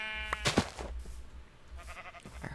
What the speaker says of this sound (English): I heard another sheep come from this side